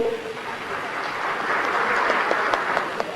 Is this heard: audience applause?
yes